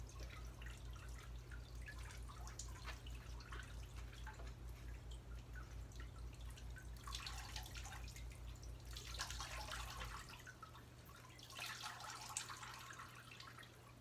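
Water dripping and trickling from a squeezed, soaked raccoon hide, close and steady for the whole stretch, with heavier splashy bursts toward the end over a constant low hum.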